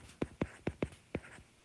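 Chalk or marker strokes on a board as equations are written, five distinct short taps and scrapes in an irregular rhythm, close and quiet with no talk.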